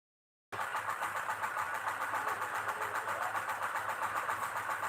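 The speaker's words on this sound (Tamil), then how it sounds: "சைலன்சர் சவுண்ட் அப்படி கேட்கும் புது வண்டி அப்படிதான் இருக்கும்" A new vehicle's exhaust silencer gives a steady, even drone with a faint pulsing throb, starting abruptly and continuing unchanged at moderate level throughout.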